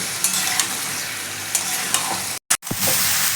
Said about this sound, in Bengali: সেদ্ধ শালগম আর মশলাটাকে আমি ভালো করে কষিয়ে নেব